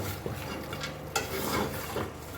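Meat mixed with seasoning and salt in a pot, producing soft, continuous stirring and scraping with a few light knocks of the utensil against the pot, close and unaccompanied by speech.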